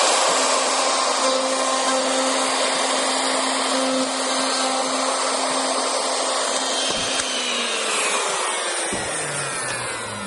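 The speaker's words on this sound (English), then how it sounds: "Isn't that plunge router great when you can go ahead over top and push right down, lock it in." A handheld plunge router cutting into wood, a loud steady high-pitched whine with cutting noise that runs continuously before winding down near the end.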